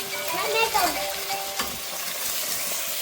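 Curry frying in a pan with tomato, a busy sizzle with scraping stirs, moderately close, while faint voices murmur in the background.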